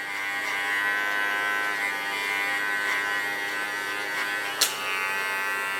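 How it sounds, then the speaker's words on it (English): A small electric hair clipper buzzes steadily while cleaning up hair along a contour line, a continuous close-up hum with slight variations as it moves. "I clean it of course with a small clipper"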